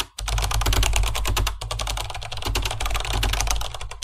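Rapid, steady typing on a computer keyboard during late-night overtime in an office, a dense run of close, crisp key clicks with a brief pause partway through, no voices.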